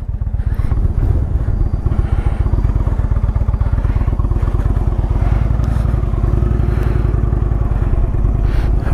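A 2017 Indian Chieftain Dark Horse motorcycle engine pulling hard under acceleration, a loud close rumbling throb with rapid firing pulses that holds steady, plus some clatter and wind, no talking.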